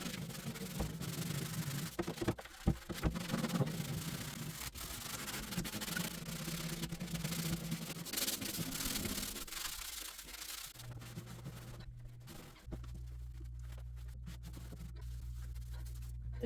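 Close, continuous scrubbing of grout drippings off a wall, with rough back-and-forth rubbing strokes that give way to a steady low hum in the later seconds. No voices.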